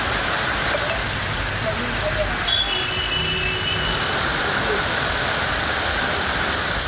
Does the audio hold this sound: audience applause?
no